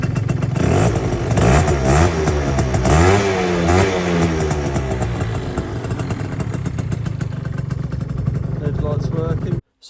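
A Yamaha Jog CY50 scooter with a modified engine revs loudly up close while riding, its pitch sweeping up and down repeatedly before settling into a steady drone that cuts off abruptly at the end.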